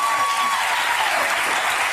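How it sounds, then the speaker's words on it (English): A television studio audience claps steadily, a dense, even burst of applause filling the whole moment without breaks. "give him a little applause here"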